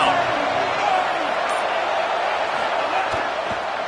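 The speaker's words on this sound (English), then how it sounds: "Decibels rising as the crowd gets behind this defense on third down." Stadium crowd in a college football video game roars steadily on a third-down defensive stand, a broad, continuous wash of noise with a commentator talking over it throughout.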